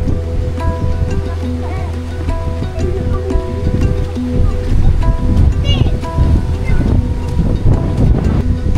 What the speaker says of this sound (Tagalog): Hangin, grabe, lakas ng hangin dito.